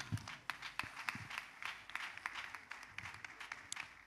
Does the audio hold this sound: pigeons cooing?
no